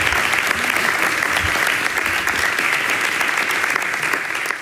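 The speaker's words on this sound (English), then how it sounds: "Let's start off with an applause" Dense, loud audience applause at a talk event, continuous clapping from a large crowd sustained throughout.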